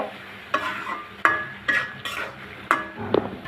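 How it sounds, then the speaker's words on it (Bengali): A spoon stirs sliced green chillies into a potato and yardlong bean fry in the pan, giving five or six separate scraping strokes at an uneven pace over a soft, steady sizzle. "একটা চামচ পরিমাণ কাঁচামরিচ ফালি দিয়ে নেড়ে নিব"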